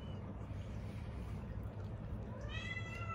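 An orange tabby cat in Hong Kong gives a single short meow near the end, rising over a steady low background hum.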